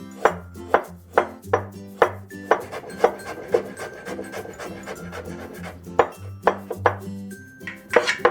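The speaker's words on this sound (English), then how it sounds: "So I'm going to mince the ginger first." Knife mincing fresh ginger on a cutting board, a steady series of sharp, close chopping knocks at roughly half-second intervals, loud and clear with no talk.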